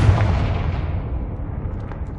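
A Confringo blasting curse explodes in Hogwarts Legacy: a heavy, booming blast that rolls out and fades over about two seconds, loud and close with no speech.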